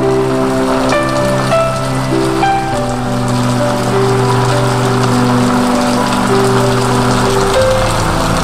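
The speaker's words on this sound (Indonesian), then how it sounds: "Rintik hujan pun mulai turun membasahi bumi." Rain falling at night makes a steady, loud hiss throughout, mixed with sustained tonal music that carries on over it.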